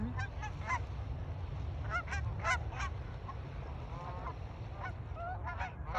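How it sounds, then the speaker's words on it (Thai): A flock of geese honks repeatedly in an open outdoor setting in Colorado, overlapping calls coming and going at moderate distance over a constant background rumble. "บางฝูงก็บินกลับบางฝูงก็บินมานะทุกคน"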